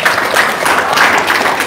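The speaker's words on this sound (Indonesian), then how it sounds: "tepuk tangan dong." A small audience claps hands enthusiastically at a religious talk, loud close rapid clapping sustained throughout without pause.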